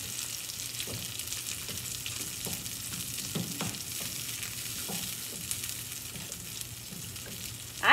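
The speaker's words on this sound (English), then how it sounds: "Yes, you hear it sizzling? It needs to do that, it's refrying them." Refried beans sizzling and frying in a pan, a continuous crackling hiss with scattered spatula taps and scrapes throughout, heard close and alone without speech.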